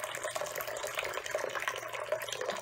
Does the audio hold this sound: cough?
no